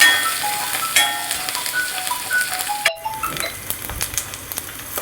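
Curry leaves sizzle loudly in hot oil with crushed ginger, garlic and slit green chillies for a Kerala mackerel curry, a dense steady crackle with bursts of popping and stirring close by.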